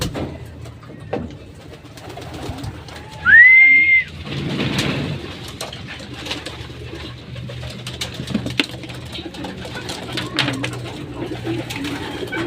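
Pigeons kept in a loft give soft, low coos under faint background noise, with a brief whistle-like call and scattered light rustling.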